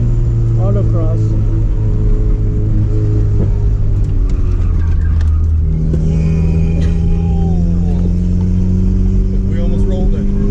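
Turbo B20V-engined Honda Civic pulling hard in second gear, a continuous loud engine drone that rises in pitch as it accelerates, heard from inside the car.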